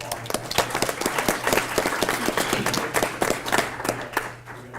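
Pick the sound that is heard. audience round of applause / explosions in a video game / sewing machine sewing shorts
audience round of applause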